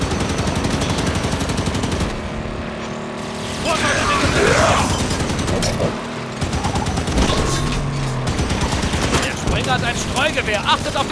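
Sustained gunfire in the Halo 5 Guardians shooter, rapid automatic bursts mixed with vehicle engine noise and impacts, loud and continuous, with voices speaking over the fighting.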